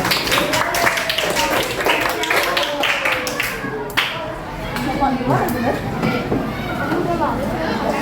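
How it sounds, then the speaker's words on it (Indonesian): Applause in a classroom for student group 3: scattered, fairly light clapping from students nearby with chatter and talking mixed in, pausing briefly midway before picking up again. "Berikan tepuk tangan ya."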